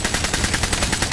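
Sustained rapid gunfire in the war shooter Medal of Honor: Warfighter, a loud, close, continuous automatic burst with evenly spaced shots and no pauses.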